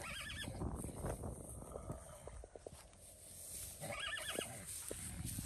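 Weaned colts on a ranch whinny loudly in two clear calls, one at the start and another near the end, with faint hoof clops and shuffling between them.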